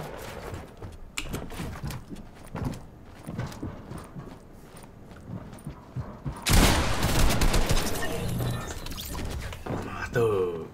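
Gunfire in the video game Fortnite: bursts of rapid shots and sharp impacts, with a louder stretch of intense firing midway, while players talk excitedly over the action.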